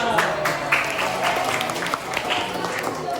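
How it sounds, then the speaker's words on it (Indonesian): Students in a classroom clap together briefly, a busy burst of hand claps with a few voices underneath. "Tepuk tangan."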